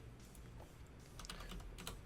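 A short burst of clicky keystrokes on a computer keyboard, typing a parts search while playing a car mechanic simulator game, close and alone with no voices.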